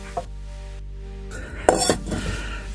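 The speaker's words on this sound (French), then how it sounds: "je mélange avec mon poisson." Sardine and tuna mixture stirred in a saucepan with onions, a brief scraping clatter of utensil against the pot under a low steady hum, close and alone without talk.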